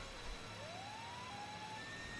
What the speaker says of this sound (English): What the hell's wrong with the sirens?